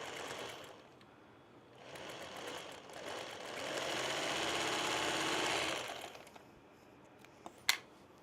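A Singer Featherweight sewing machine stitching in a steady run that swells into a long, louder burst of motor whir before stopping, then a sharp clack close by.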